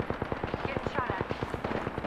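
Rapid automatic gunfire in Apex Legends, a fast, evenly spaced burst of about twenty shots at moderate loudness, with game voices and background sound underneath.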